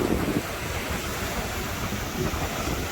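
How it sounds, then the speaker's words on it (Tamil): Ocean waves wash onto a beach lined by mountains, a steady broad rush of surf mixed with gusty wind noise on the microphone, loud and continuous with no talk. "As you see the waves"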